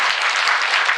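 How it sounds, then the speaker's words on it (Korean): Audience applause at a community book concert, a steady wash of many hands clapping, dense and even, filling the whole moment without voices. "이렇게 감사해 한번 박수 한번 주시면 좋을 것 같아요"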